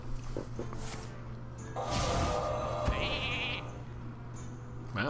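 A sheep summoned in the Hearthstone card game gives a clear, close bleat in the middle, set against game music and effects with a steady low hum underneath.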